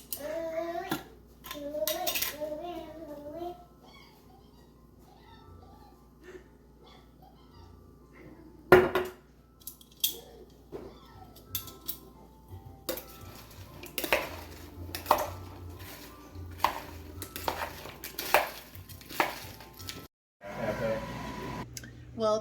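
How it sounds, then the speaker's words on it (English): Utensils clink and scrape against a bowl as a salad is dressed and tossed in a home kitchen, with sharp intermittent clatters in the second half, and a voice heard faintly early on. "So now we're gonna dress our salad."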